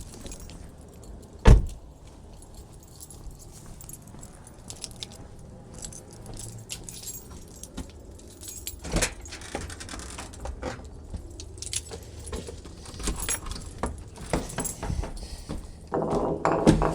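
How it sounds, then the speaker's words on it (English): Car keys jangle sharply once near the start, then quieter rustling and small clinks follow in a parked car, with some movement and vehicle noise toward the end. "Keys."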